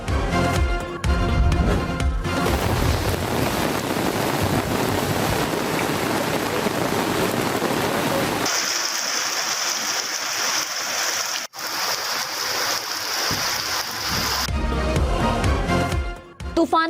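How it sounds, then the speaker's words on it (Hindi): Storm rainwater floods Rawalpindi streets and rushes through low-lying areas, a loud continuous wash of flowing water and splashing heard alone, with a brief break near the middle and music-like tones at the start and end. "तूफानी बारिश ने रावलपिंडी को डबो दिया। नशेबी इलाके पानी पानी।"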